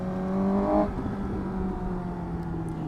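A Suzuki GSX-S750 motorcycle engine of 114 horsepower revs up with rising harmonic whine, then settles into a steady drone as it pulls away, moderately loud, no voices.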